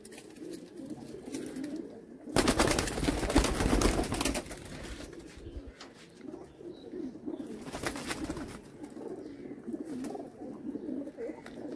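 High flyer pigeons at a sale coo softly in low, throaty calls, nearby and continuous, with two loud bursts of rustling wing flapping breaking through; no voices.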